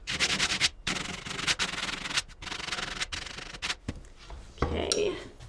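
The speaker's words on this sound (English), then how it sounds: "now we're gonna sand right through everything" Hand sanding through layered paint on a sawdust-textured background, a dry rasping scrub in rapid strokes broken by short pauses, close and fairly loud, with a brief clatter near the end.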